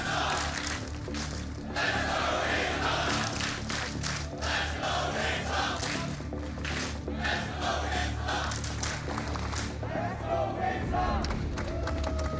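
A loud arena crowd at a Counter-Strike esports match, OG versus Wings Up on Inferno, roars and chants continuously with thumps and clapping mixed in, while voices talk through the din.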